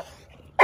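A pitbull lets out a single short, loud bark near the end, after a quiet moment.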